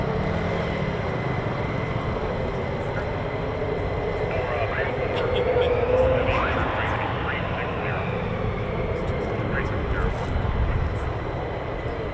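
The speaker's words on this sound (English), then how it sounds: "Yes, an F-15." An F-15 fighter jet at RAF Lakenheath makes a continuous engine roar throughout, with faint radio-style voices talking underneath.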